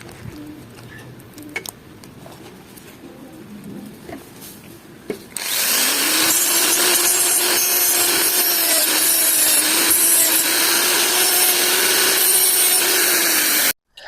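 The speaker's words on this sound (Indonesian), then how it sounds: "Teman-teman dipotong pakai tang seperti video ini." A plastic sprue fin on a Dcobra M416 kit is cut with pliers: a few quiet clicks and handling taps, then a loud sustained grinding, rasping noise that runs for several seconds and stops abruptly.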